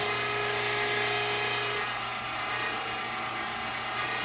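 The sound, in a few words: meat grinder grinding mountain oyster sausage meat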